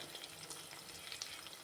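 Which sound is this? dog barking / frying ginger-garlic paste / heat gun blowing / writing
frying ginger-garlic paste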